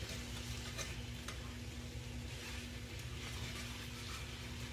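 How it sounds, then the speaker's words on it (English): A spatula scrapes the bottom of a pan of frying potatoes and onion, its soft strokes riding over a constant, quiet sizzle at close range. "You need to scrape that bottom and lift it up"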